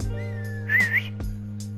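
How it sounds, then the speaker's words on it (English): A Mafia 3 game character whistles a sustained, wavering tune that rises in the middle, fairly clear over a steady low game hum, with a brief click near the end. "You want to whistle one more time?"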